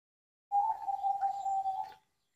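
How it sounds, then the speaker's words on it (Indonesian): A single soft, sustained zebra dove coo rises out of silence, lasting over a second and fading cleanly, with no chickens audible. "Ada suara burung perkutut, suara ayam."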